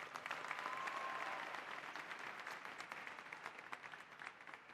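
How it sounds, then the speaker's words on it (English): Applause at the 2016 Wolfson and Hialeah campuses commencement ceremony, a sustained wash of many hands clapping that fills a large hall, even and fairly distant, slowly easing off near the end. "let's join us in giving another well-deserved round of applause"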